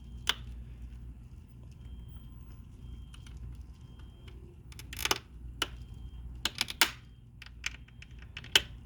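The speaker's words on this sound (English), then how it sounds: "it's rotating. It is supposed to press the pin, but it's lifting it up. Okay, and that makes the clicking sound." The rotating mechanism of a faulty PetSafe Simply Clean litter box makes scattered sharp clicks and ticks over a low rumbling motor drone. The clicks come irregularly and grow more frequent toward the end.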